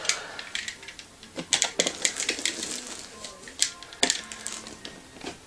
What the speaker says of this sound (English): So let's of course cut the tape away.